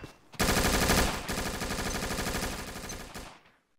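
A MAC-10 in the Combat Arms video game fires one sustained, rapid automatic burst of about three seconds. The shots are close and loud, then the burst cuts off abruptly.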